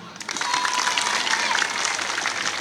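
Audience applause at a talk about school violence and girls' schooling in Dimbaya Kagnale, Senegal: a steady wash of many hands clapping, moderately loud and sustained, with some crowd voices mixed in.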